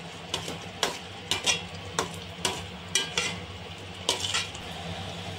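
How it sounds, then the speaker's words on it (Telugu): A spoon stirring and frying masala in a pan for gongura fish curry, with repeated scraping clinks against the pan over a soft steady sizzle and no talking. "పచ్చివాసన పోయేంత వరకు కలుపుకొని బాగా వేపుకోవాలి"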